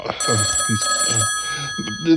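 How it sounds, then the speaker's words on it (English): A telephone rings with an incoming call, its bell-like tones running steadily throughout while people talk over it. "Look, I've got another phone call coming through."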